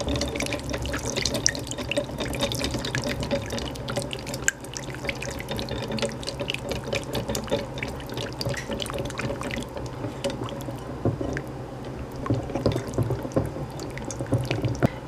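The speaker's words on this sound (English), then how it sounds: "And whisk together." Vinaigrette is whisked together in a bowl, a steady, close, wet sloshing with light rapid taps that continues without pause and with no voices.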